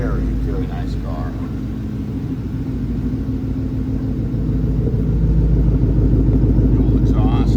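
Deep, steady V8 exhaust rumble from an idling 2012 Ford Mustang GT coupe with dual exhaust, loud and close, with faint speech briefly audible near the start and end.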